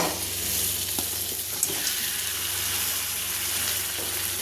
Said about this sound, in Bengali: এবার এর মধ্যে দেবো ভিজে রাখা মাছ আর আলু